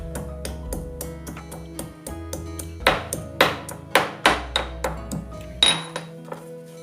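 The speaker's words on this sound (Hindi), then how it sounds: "अदरक भी कूट लूंगी।" Ginger being pounded by hand for an Ayurvedic kadha: a close series of sharp, ringing clinks, sparse and irregular at first, then heavier and more regular.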